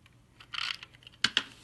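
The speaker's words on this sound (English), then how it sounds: "I'm just going to put a little bit of tape on this" Tape pulled and pressed onto paper while making a card, a short crackling peel followed by two quick sharp taps, close and quiet.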